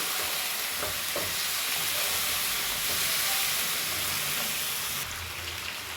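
Chicken and onions fry in a pot with a continuous bright sizzle and hiss, steady and close, with a few faint stirring clicks and no talking.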